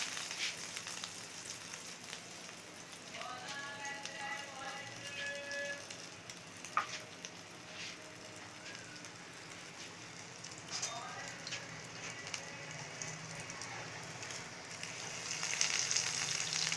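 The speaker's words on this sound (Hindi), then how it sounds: "अब हम इसको ऑयल में फ्राई कर देंगे।" Potato kebabs (aloo ke katlas) coated in crumbs and frying in hot oil, a steady soft sizzle throughout with faint clinks and brief scraping, quiet and close.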